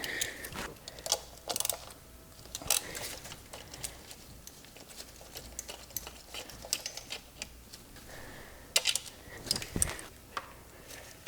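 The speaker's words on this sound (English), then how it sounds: "now we're going to remove this black component here using a 10mm socket" A 10mm socket ratchet works on a black component of a Mazda RX-7 FD engine, giving faint, irregular clicks and small metallic ticks with occasional sharper knocks, close but quiet.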